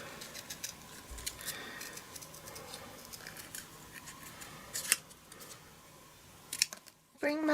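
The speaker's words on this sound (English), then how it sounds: "So basically you hold your scissors at a 45-degree angle and you move the paper rather than, this is in the way, rather than your scissors." Scissors snip through paper during card making, a series of small crisp cuts and rustles scattered among faint handling noises, quiet and close, with a louder clatter near the end.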